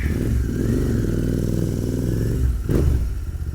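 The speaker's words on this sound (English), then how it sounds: "Let's take this low-powered bike out into the concrete jungle." A Royal Enfield Continental GT motorcycle engine thumps at a steady idle up close, with a low, even pulsing beat and a brief burst of noise near the end.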